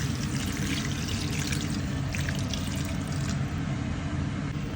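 Water poured into a cooking pot holding chicken wings seasoned with chicken cubes, salt and pepper, a steady close-up rush and splash that runs without a break for the whole stretch, no voices over it.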